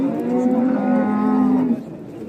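A single cow lets out one long, loud moo lasting well over a second, close by, at the Özgön livestock market, then the call fades into background hum.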